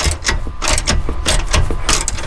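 Bolts being tightened on a Ford Bronco Slipstream wall assembly, giving a steady run of ratcheting clicks and metallic mechanism noise at close range, with no talk.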